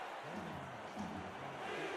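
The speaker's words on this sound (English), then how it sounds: "The crowd getting into it." A stadium crowd at a football game roars in a broad, distant swell of cheering and shouting that rises and falls under the arena ambience.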